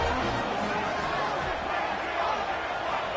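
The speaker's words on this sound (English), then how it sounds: "The crowd's back in it" Stadium crowd cheering in an NCAA college football video game, a dense, steady roar of many voices filling the whole stretch at an even level with no letup.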